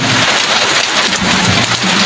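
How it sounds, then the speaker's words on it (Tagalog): Heavy rain pours down in a steady dense roar, loud and close, with a low rumble of thunder beneath it and no talking. "hindi marinig kasi napakalakas ng ulan dito sa amin"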